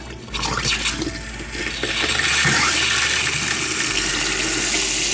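Water surges through a newly installed BrassCraft compression angle stop valve under a sink, a close splashing gush that starts abruptly and steadies into a strong, continuous flow, with no talking.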